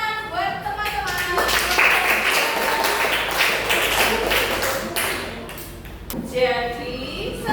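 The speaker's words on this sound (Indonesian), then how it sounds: "kita kasih tepuk tangan buat teman-teman." A classroom group claps for their classmates during a lesson on Borobudur Temple, a burst of broadband clapping lasting several seconds, with a teacher's voice talking before and after.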